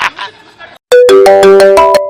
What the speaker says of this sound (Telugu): సర్లే ఫోన్ ఏదో వస్తుంది చూడు.